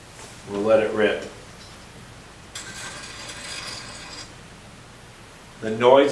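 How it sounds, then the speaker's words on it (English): Laboratory spectrophotometer running a wavelength scan on a diluted plant pigment sample, its filter mechanism giving a steady broadband whirring rasp for about two seconds in the middle, with voices talking before and after. "that's actually the machine switching filters as it runs through the wavelength spectrum."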